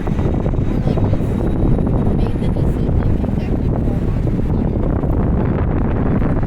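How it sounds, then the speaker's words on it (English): Strong northwest wind buffets the microphone outdoors at a city waterfront, a continuous heavy low roar that holds steady and loud from start to finish. "It's coming from the northwest. That's where the wind's coming from."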